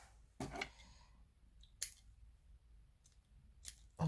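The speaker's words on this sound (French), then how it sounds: "Je vais couper un peu les ficelles." Scissors snip strings a few times up close, with several sharp, separated cuts and quiet pauses between them.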